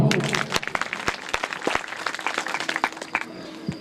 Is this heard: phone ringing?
no